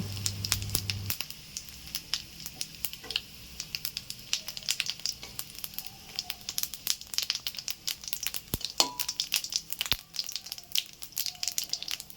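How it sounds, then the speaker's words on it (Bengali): Dried red chillies and cumin seeds frying in leftover oil from frying tilapia fish, giving a steady, close crackle and spit of sizzling with scattered sharper pops, no voices. "মাছ ভাজা তেলের মধ্যে শুকনো লঙ্কা জিরে ভেজে তুলে নেব।"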